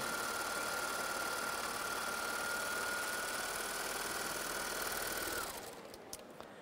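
A Baby Lock overlock serger stitches fabric at a steady high speed, a loud continuous mechanical whir with a constant hum that runs for about five seconds, then winds down and stops, leaving faint clicks.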